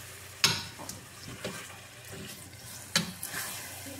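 Caramelized pork loin is stirred in a pan as water is added bit by bit, giving soft sizzling with a few sharp hissing bursts and scraping stirs, moderately close.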